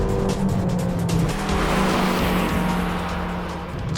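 A 2020 Toyota Vios facelift with a 1.5-litre CVT accelerates hard off the line at full throttle, its engine droning steadily and loudly with tyre noise beneath, recorded close as it pulls away.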